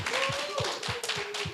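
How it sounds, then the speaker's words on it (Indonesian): Sparse, rhythmic hand claps from a church congregation, about six evenly spaced claps under a sustained voice, fairly quiet and close. "Tepuk tangan dulu dong"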